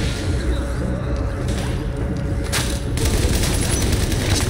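An automated turret fires in the video game The Division, a dense continuous burst of rapid gunfire that grows louder and sharper toward the end, with no talk over it.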